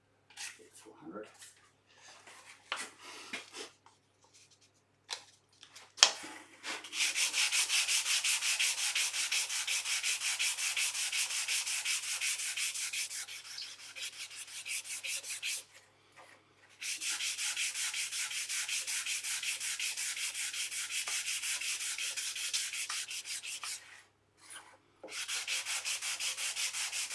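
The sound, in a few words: hand sanding wood with fine sandpaper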